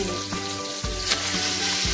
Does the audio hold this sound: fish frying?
yes